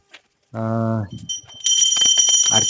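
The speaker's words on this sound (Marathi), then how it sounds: "देवासमोर घंटी वाजवली" A hand bell rung before the household deities during a Navratri Ghatasthapana worship at home, with a bright, sustained metallic ringing for the last second, close and loud, following a hummed voice and some talk.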